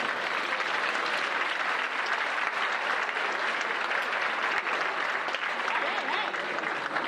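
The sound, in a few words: audience applause at a conference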